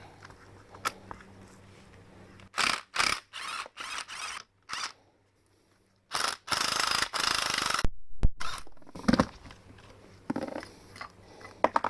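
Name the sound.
undoing strut top nut with a ratchet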